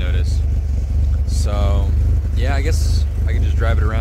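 A Corvair car engine idling with a low, steady rumble, while people talk over it in the foreground.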